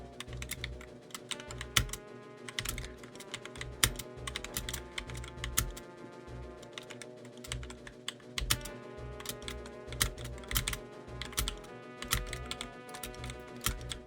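Continuous fumbling keystrokes on a computer keyboard during a tower-building game, close and steady with irregular clusters of clicks over constant background music.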